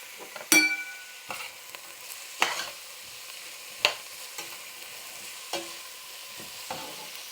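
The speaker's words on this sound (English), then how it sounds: "There's my pepper and onion mixture cooking up real nicely" Garlic, pepper and onion cooking for jambalaya sizzle faintly in a pan while a utensil stirs, giving sharp scrapes and clinks every second or so over the quiet, steady frying hiss, with no talking.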